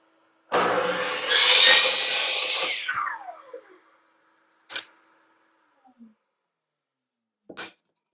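A saw cuts through a clear #1 pine board for mitered edge pieces in one loud burst of about three seconds that winds down as the blade slows. A few short clicks and knocks follow in a quiet room.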